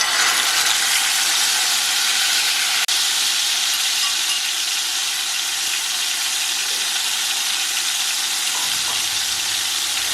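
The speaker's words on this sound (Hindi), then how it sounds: "फ्राइज भी साथ फ्राई हो जाएंगी और साथ ही चिकन जो है वो मैं फ्राई कर लूँगी।" Fries and chicken frying together in hot oil, a steady dense sizzle and hiss that runs loud and unbroken throughout, with one sharp click near the start and no talk.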